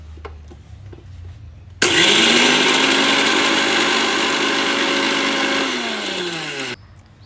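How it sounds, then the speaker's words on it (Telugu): An electric kitchen mixer grinder grinding rice flakes and roasted gram, starts suddenly with a rising whine, roars loudly and steadily for about five seconds, then winds down and stops. "మిక్సీ పడుతున్నా, దొడ్డ అటుకులైనా పర్వాలేదు"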